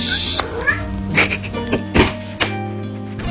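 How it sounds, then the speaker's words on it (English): A cat gives a few short meows, close and fairly loud, spaced out over several seconds amid soft household knocks and thuds. "Silly daddy's silly cat"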